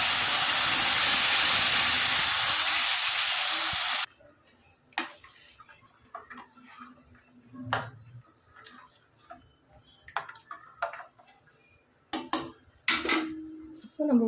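Tamarind water hits a hot pan for temple-style puliyodharai paste, a loud rushing hiss that cuts off abruptly after four seconds, followed by quiet simmering, scattered utensil clicks and occasional speech.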